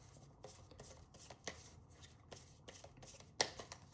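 Tarot cards shuffled by hand close up, a quiet run of soft riffles and flicks with a sharper snap near the end, no voices.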